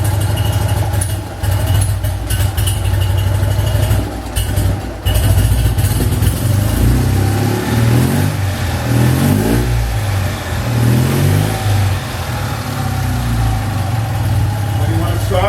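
A cold BMW R50/2 motorcycle engine runs loudly up close with a rough, pulsing idle, blipped repeatedly with throttle in uneven revs; someone talks over it.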